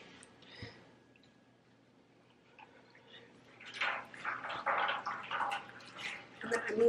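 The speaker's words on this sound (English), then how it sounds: "I'm moving to the sink and submerging the yarn in the water." Hot skeins of yarn are pushed down into water in a kitchen sink, giving a quiet start and then a few seconds of close sloshing and splashing that grows louder toward the end.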